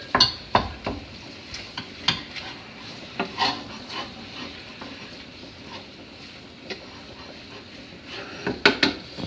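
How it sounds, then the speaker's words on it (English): Food being stirred and broken up in a pan: repeated sharp chopping taps and scraping strokes of a utensil against the pan, irregular and close, over a faint steady sizzle. "Stir, chop, chop, chop, chop, chop, break it up."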